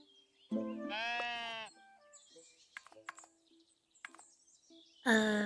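Sheep bleating in the cozy building game Tiny Glade, a wavering bleat up close followed by soft chirpy game sounds and another bleat cut off at the end, no speech.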